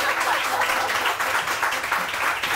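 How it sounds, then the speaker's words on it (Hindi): A studio audience claps on a Pakistani morning TV show, a brief burst of dense, fairly loud applause with a busy, fluttering texture throughout. "तालियां तो बजाओ"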